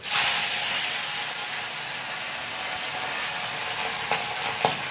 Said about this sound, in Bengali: কড়াই তেলও দিয়ে দিয়েছি, আর এগুলো ভেজে নেব।